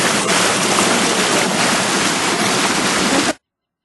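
Flowing water of the Bogotá River in Colombia, a loud, steady rushing wash heard close up, continuous until it cuts off abruptly near the end.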